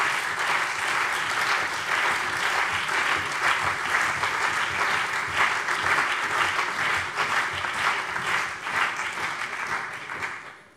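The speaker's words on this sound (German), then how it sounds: "Applaus" Sustained applause fills a German state parliament plenary session during a mourning tribute to a murdered politician, a broad even roar of many hands that holds for about ten seconds before tapering slightly at the end.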